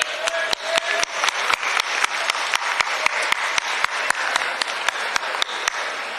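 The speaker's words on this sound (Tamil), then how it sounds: "ரெண்டு பேருமே நல்லா கை தட்டணும்" A large audience at a Saurashtra conference in a hall claps in a steady, unified rhythm, loud and close, with evenly spaced sharp claps over a continuous wash of applause.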